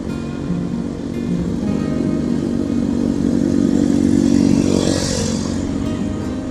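Motorcycle engine revving and pulling hard up a steep hill on the Nagreg road toward Bandung, a steady loud drone with rising throttle midway and no talk.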